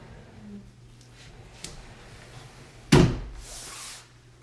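A pocket door on a house's water closet slides and bangs shut with one sharp thud, followed by a short rolling rumble that fades, after a quiet stretch with a few faint knocks.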